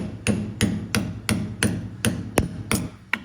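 A hammer taps a jammed bearing back onto the end of a shaft: eight sharp metallic strikes at a steady, roughly once-a-third-second rhythm, close and clear, with no talk.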